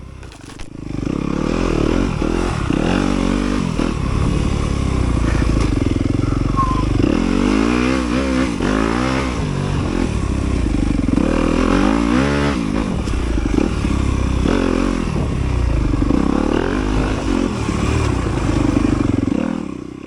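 An enduro motorcycle races through deep sand and whoops covered in pine needles at a sprint enduro in Meridian, Mississippi, its engine loud and continuous with revving swells, rattles and scraping under the roar.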